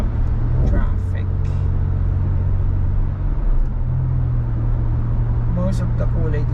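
Busy Dubai road traffic rumbles steadily near a car, with engines droning and passing vehicles, while people talk over the noise throughout.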